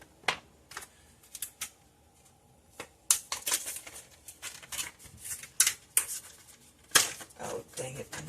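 Scissors snip open a plastic pack of peppermint extract in a kitchen, giving a scattered run of sharp clicks and crinkles of varying loudness, close to the microphone.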